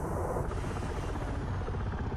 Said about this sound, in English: Oh, that's helicopter.